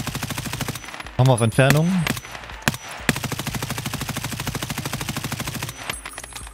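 M4A1 assault rifle with an XPS 3.0 sight in Escape from Tarkov firing full-auto: long rapid strings of loud, evenly spaced shots, with someone speaking briefly between the bursts.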